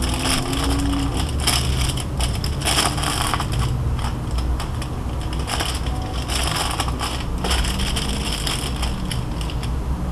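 Sheets of aluminum paper, firmer than ordinary foil, are folded and crushed by hand, producing dense continuous crinkling and crackling up close, loud and unbroken, with no talking.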